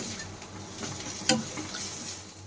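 Greens with dried chillies being stirred in a frying pan, a soft steady sizzle under scraping strokes of a spatula, with one sharper clink of utensil against the pan midway.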